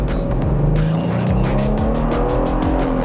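Toyota Land Cruiser Prado accelerating hard from a standstill, a loud close engine note rising in pitch through repeated gear changes, with road and tire noise throughout.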